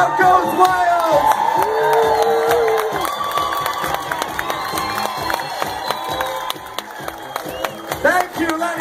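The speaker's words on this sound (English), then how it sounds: "and the crowd goes wild" A lively crowd at a carnival-themed disco dance class cheers, whoops and shouts over pulsing music, a dense continuous roar with children's voices rising above it throughout.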